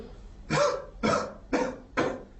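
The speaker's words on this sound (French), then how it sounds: "Je vais vous demander de tousser un petit peu." A patient coughs four times at a steady pace during a cardiology and vascular medical examination, each cough close and distinct with short pauses between.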